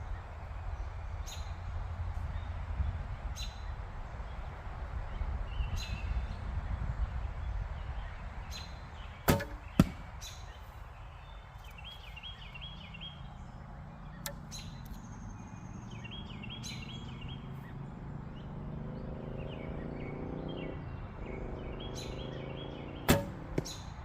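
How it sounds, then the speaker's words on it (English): Arrows are shot from a Sanlida Royal X8 recurve bow outdoors, with a few sharp, loud releases and impacts spaced through a long stretch of quiet ambience and occasional distant birdsong. "These arrows they do not want to fly very well."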